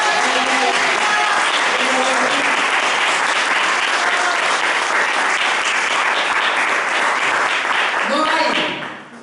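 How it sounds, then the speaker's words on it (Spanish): Church congregation clapping together for the Lord during a Spanish-language sermon, a dense sustained burst of applause lasting several seconds before fading out, with a voice speaking briefly near the end. "¿Cuántos pueden darle palmas al Señor?"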